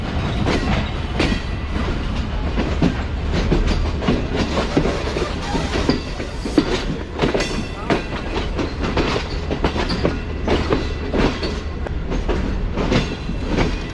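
Green Line Express passenger train with chair-car coaches running on the rails toward platform 3, a dense steady rumble with repeated clickety-clack wheel beats, loud and close throughout with no voices.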